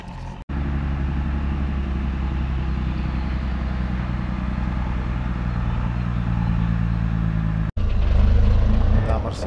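Mercedes dump truck squeezing through a very narrow gate, its heavy diesel engine droning loud and close, steady throughout with a brief cut near the end, while a person talks over it.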